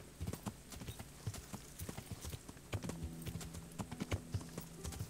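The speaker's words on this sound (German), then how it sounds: "Da ist mein Pferd." Horse hooves clip-clop in Kingdom Come: Deliverance, a string of distinct, fairly quiet hoofbeats in an uneven walking rhythm, with a faint low tone underneath.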